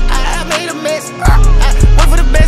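Deep, punchy dog barks land in a rhythmic pattern under a sung vocal, woven into a hip-hop music track.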